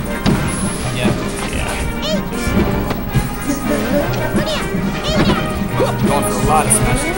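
Smash attacks land in a Super Smash Bros. Melee match between Ice Climbers and Captain Falcon, sharp hits and crashes over busy game sounds, with commentators talking throughout.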